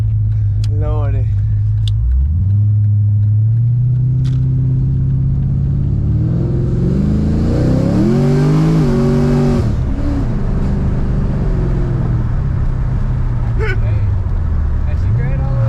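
A Pontiac GTO fitted with racing springs in the back revs loudly and accelerates, its engine note climbing and dropping as it shifts through the gears, heard from inside with a deep rumble throughout.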